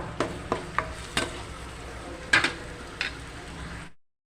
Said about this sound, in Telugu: దీన్ని బాగా మిక్స్ అయ్యేలా మనం కలుపుకోవాలి బాగా వేగనివ్వాలి